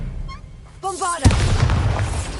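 A Bombarda spell explodes in Hogwarts Legacy: a sudden loud boom with a crackling, rumbling burst that lingers to the end, following a short shouted voice and brief chiming game tones.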